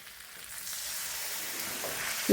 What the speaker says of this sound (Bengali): এবার ওর মধ্যে আমি দিয়ে দিচ্ছি জল